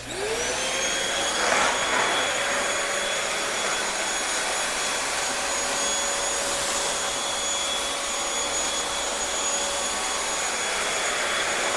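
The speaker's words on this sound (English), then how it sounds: "we're gonna see just how well this vacuum here, the Bissell Featherweight, cleans this up" A Bissell Featherweight cordless stick vacuum cleaner runs steadily and loudly from start to finish, its high motor whine and airy rush constant, with no voices.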